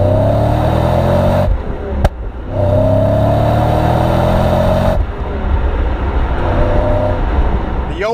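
Porsche 928 S4 V8 sports car accelerates hard through several gears, each pull a loud rising engine note broken by brief gaps at the shifts, heard close and continuous.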